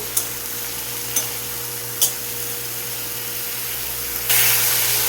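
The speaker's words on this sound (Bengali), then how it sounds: "মাছ ভাজতে গেলে বেশিক্ষণ তেলটা একটু কড়াইয়ে মানে ভালো করে গরম হতে দিলে পরে" Fish frying in hot oil in a wok, a steady close sizzle broken by three sharp taps, with the hiss swelling louder and brighter toward the end.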